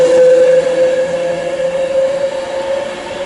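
Train passing Watford Junction on the West Coast Main Line, bound for London Euston: a close, loud rolling rumble with a sustained tonal whine that slowly fades.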